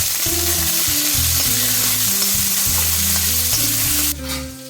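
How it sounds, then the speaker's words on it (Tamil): Garlic and small shallots sauté in a pan, giving off a steady hiss of frying. The sizzle sits under louder melodic background music that carries on throughout. "நம்ம போட்டுக்கிற பூண்டை நல்லா வதக்கிடுவோம்"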